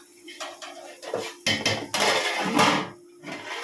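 A metal lid clanks onto a biryani pot in a few close, ringing knocks and scrapes, uneven in timing, with short quiet gaps between them.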